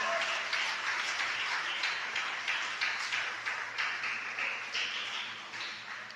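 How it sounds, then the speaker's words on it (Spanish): A church congregation claps together in a steady rhythm during a worship service, a moderately faint, even beat of many hands that carries on throughout. "Dele un aplauso al Señor"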